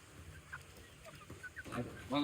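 Chickens on a farm grove in Puliyangudi, Tenkasi give a few short clucks that rise near the end, with a faint voice murmuring underneath.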